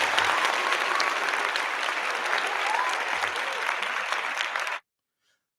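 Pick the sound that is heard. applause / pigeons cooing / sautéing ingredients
applause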